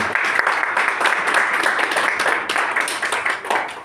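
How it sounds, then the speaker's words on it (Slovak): A church congregation claps together, a lively sustained patter of many hands lasting several seconds and fading toward the end, with a voice faintly mixed in. "Zatleskajme Ježišu, to je dobrý deň."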